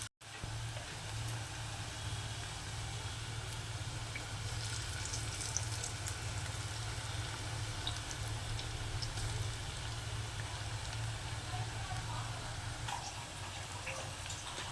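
Onion pakodi fry in hot oil as a steady, dense sizzling hiss that holds at an even level throughout, close and continuous with no talking.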